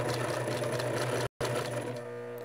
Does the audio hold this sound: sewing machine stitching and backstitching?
yes